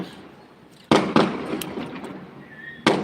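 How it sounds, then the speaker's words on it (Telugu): Firecrackers go off nearby outdoors in a garden setting as a few sharp, loud cracks, two close together then a final bang a couple of seconds later, with faint crackling between. "ఎవరో క్రాకర్స్ పెట్టారు"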